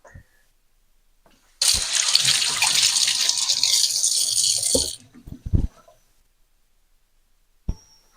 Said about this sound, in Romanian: O să mă duc să mă spăl un pic pe mâini.